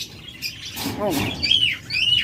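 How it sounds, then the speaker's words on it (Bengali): Cockatiels and lovebirds at a pet bird sale chirp and squawk in a busy, steady stream of overlapping calls, with someone talking over them. "দেখুন এখানে রয়েছে অসংখ্য পাখি রয়েছে"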